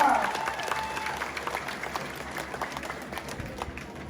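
Sustained audience applause at a Philippine political gathering honoring a vice mayor, steady dense clapping from a crowd throughout, fairly loud and continuous without pause.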